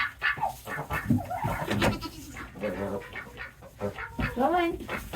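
Several goats bleat loudly and repeatedly at close range on a small farm, their wavering, nasal calls overlapping one after another with barely a pause.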